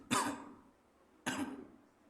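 Two short throat clearings about a second apart, close and fairly quiet, each a sharp burst that fades out.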